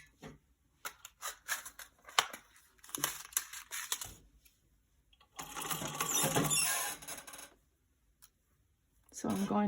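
A sewing machine stitches a pillow seam with a medium locking stitch, starting in short stuttering bursts of needle clatter, then running in a steady whirring stretch, with pauses between.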